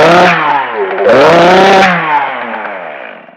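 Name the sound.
Echo chainsaw starting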